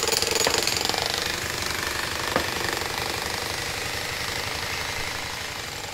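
Concrete being broken by a rapid pounding breaker at an arch bridge construction site, a loud continuous hammering rattle that goes on for the whole stretch with a couple of sharper knocks, no talk.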